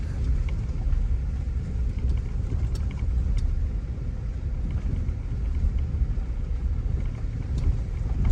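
Interior rumble of a car driving slowly through a riverside campground, a steady low engine and road drone with faint ticks and rattles, no talk.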